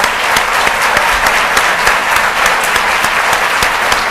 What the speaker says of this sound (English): we'd love to just give a round of applause